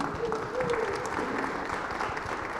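Steady, dense applause fills a town hall budget meeting, a full room clapping continuously at even loudness throughout the short stretch.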